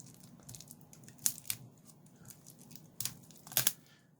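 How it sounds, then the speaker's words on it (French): Scissors snip through the protective packaging of a photobook in a few sharp, close cuts, separated by brief pauses and soft crinkles of plastic and paper. "Alors on va prendre un ciseau."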